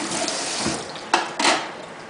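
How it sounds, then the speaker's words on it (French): Tap water runs over brined food being rinsed in a kitchen sink, a steady close splashing with two brief louder gushes as the food is moved under the stream. "Je vais juste venir le rincer un peu, le passer sous l'eau pour enlever un petit peu l'excédent de saumure qu'il y a dessus."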